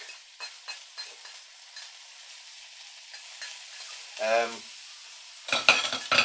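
Frozen broccoli and sweet corn cooking in a pan for a bacon curry, a faint patchy sizzle with scattered stirring scrapes and one louder clatter near the end.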